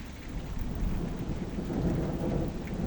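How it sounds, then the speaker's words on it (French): Heavy rain pours down steadily in the heart of a thunderstorm, with deep rumbling thunder rolling underneath, a dense, loud wash of sound with no voices. "Il commence à y avoir la pluie de malade là, les gars."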